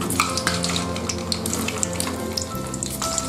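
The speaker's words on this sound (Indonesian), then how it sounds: "pertama kita goreng dulu sosisnya" Sausages fry in oil in a pan for a toast, sausage and egg breakfast, a dense close sizzle with crackling pops and faint clinks running steadily throughout.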